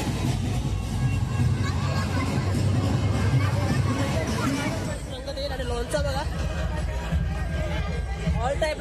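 Crowd noise at the Khandeshwar temple fair for Mahashivratri in Panvel: a steady, dense hubbub of many voices and chatter close around, with nearer talk and shouts cutting through in the second half.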